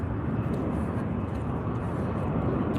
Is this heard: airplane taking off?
yes